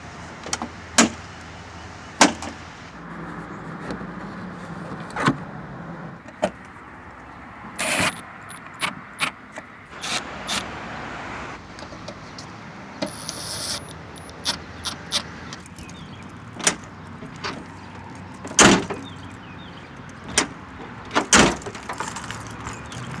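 Liftgate on a Jeep ZJ being worked open and shut after a stuck-closed latch repair, with a series of sharp clunks and latch clicks spread across the span, some louder slams among lighter rattles, close by and with no talking.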